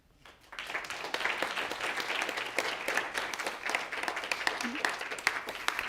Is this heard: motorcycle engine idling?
no